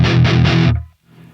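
An electric guitar played through a Seymour Duncan Diamond Head distortion pedal set at 12 o'clock, giving three quick loud distorted chugs that cut off sharply, followed by a faint ringing tail.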